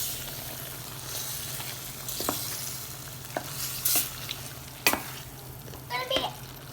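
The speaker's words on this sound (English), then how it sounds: "And mixing it up." Chicken curry with gadra beans is stirred in a sizzling pot, a soft steady fry broken by a few scraping clinks of the spoon against the pot.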